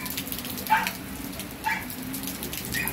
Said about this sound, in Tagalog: Maulan dito sa amin.